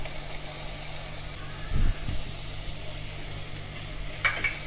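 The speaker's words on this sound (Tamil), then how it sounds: "ஃபஸ்ட்டு வெங்காயம் போட்டு நல்லா வணக்கிக்கலாம்." Onions, curry leaves and green chillies sauté in oil in a kadai with a steady, soft sizzle, broken by a couple of brief stirring clatters.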